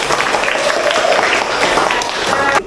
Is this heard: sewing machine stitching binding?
no